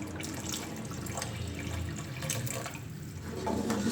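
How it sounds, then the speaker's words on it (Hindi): Water poured into matka biryani gravy, a steady, continuous trickle close by with a brief splash toward the end and no talking. "इसमें थोड़ा सा पानी ऐड करूँगी मैं।"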